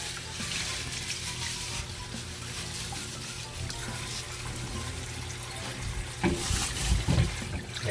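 Tilapia being washed under running tap water, a steady close splashing stream with a louder burst of water near the end, and no talking.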